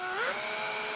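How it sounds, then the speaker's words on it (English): Power drill boring a hole in copper while making a copper vine flower, a loud steady whine whose pitch rises quickly as it spins up, then holds, close and alone. "I'll drill over this hole"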